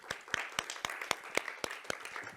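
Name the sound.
audience applause for speaker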